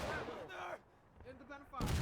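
Musket gunfire in the Civil War video game War of Rights, on the Hagerstown Turnpike map, comes as sharp, broad bursts at the start and end, with a voice heard in the quieter middle.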